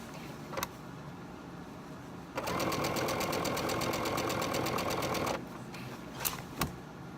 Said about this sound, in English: I'm just doing a straight stitch.